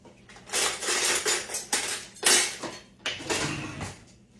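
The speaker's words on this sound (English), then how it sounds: "Got us a bowl out. Let's get us a spoon." Dishes and cutlery clink and clatter in a kitchen as a bowl and spoon are taken out for serving blackberry cobbler, a run of close, irregular knocks and rattles with brief pauses between.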